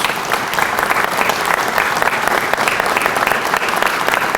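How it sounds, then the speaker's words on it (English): Steady, loud audience applause fills a hall at a clinical sciences center grand opening, dense clapping continuing without a break throughout. "Let's give them another round of applause"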